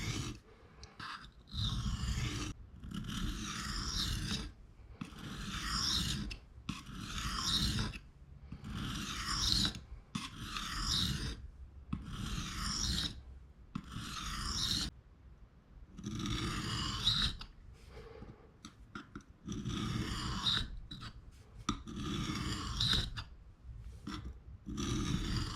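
Knife bevel worked on coarse 220 grit abrasive in repeated forward and reverse passes, each a loud raspy scrape with brief pauses between strokes, in a steady rhythm throughout.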